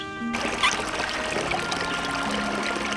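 Running water pours steadily from a shower in the Avatar's bathroom in Ultima IX: Ascension, a continuous close hiss and splash with a faint tonal hum underneath.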